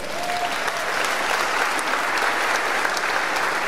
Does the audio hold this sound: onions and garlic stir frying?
no